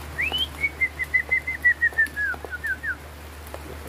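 An old white-rumped shama, or murai batu, sings close and loud, a rapid run of about a dozen bright, evenly spaced whistled notes over a low hum.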